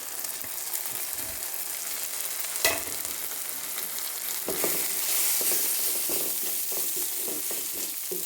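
Onion, tomato, green chilli and ginger masala sauté in oil, producing a continuous close sizzle with scraping stirs and one sharp knock against the pan.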